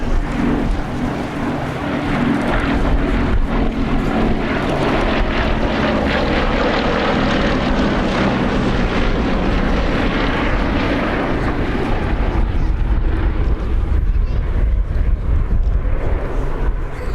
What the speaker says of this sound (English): the last biplane fighter to serve with the Royal Air Force, a type that first flew in 1934